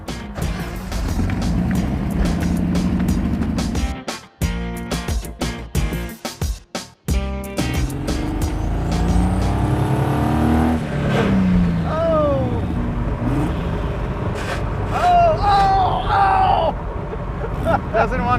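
A Chevy-powered 1971 Datsun 240Z with a junkyard turbo swap roars and revs loudly, its exhaust note rising and falling, with a brief sputtering drop partway through and people talking over it.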